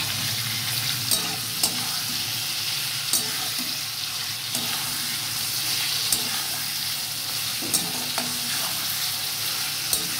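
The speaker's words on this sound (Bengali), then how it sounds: "এটা যতক্ষণ না মজে আসছে ততক্ষণ আমি এটাকে নাড়াবো।" Chicken stew frying in a pan is stirred under a steady loud sizzle, with occasional light clinks and scrapes of the spoon against the pan.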